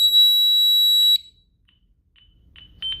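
A Honeywell home alarm system sounds during a test with a loud, steady electronic tone lasting about a second, then cuts off, followed by faint short beeps.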